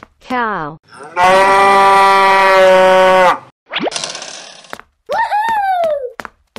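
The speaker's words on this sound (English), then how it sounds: "Cow." A cow gives a long, loud, sustained moo lasting about two seconds, framed by short boing-like cartoon effects and squeaky sliding tones in a children's animal-painting animation.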